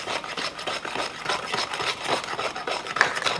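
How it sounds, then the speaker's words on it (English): Egg and butter batter whisked in a bowl as sugar goes in: a close, continuous scraping and rubbing with quick rhythmic strokes, steady and alone. "while I'm whisking"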